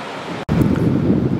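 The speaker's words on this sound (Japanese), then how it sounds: "今結構風が吹いてます。" Strong wind buffeting a bare camera microphone on a Canon PowerShot V10 with no windscreen fitted, a loud continuous rumbling roar broken by one brief dropout near the start.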